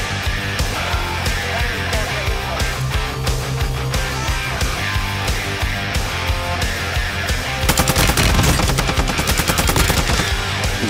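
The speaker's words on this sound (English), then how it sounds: "I hear shots" Automatic gunfire in the video game Warzone rattles through a dense battle mix, with steady bursts throughout and a louder, rapid stretch of shots near the end.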